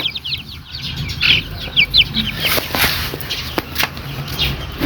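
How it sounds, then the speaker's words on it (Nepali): Village chicks peep in quick, high chirping runs while hens cluck nearby, close and fairly loud over a soft background rumble. "यहाँ चाहिँ हाम्रो ब्युटिफुल चल्लाहरू।"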